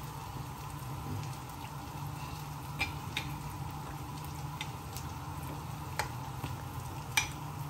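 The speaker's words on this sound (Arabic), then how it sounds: "وانت بتحمري تاخدي معلقه نشا وتحطيها وتقلبي وتحمري على طول" Falafel fries in hot oil while a spoonful of starch is added and stirred in, giving a steady close sizzle with occasional sharp clinks and splashes from the stirring.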